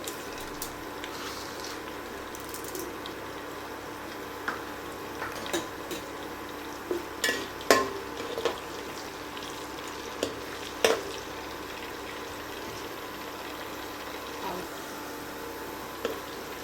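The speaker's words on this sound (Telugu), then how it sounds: "ఈ ఉల్లిపాయలు మనకు బాగా వేగనిద్దాము" Chopped onions and tempering seeds frying in oil in a pan, giving a continuous soft sizzle with occasional scraping stirs and light clinks of a utensil, close by and with no talking.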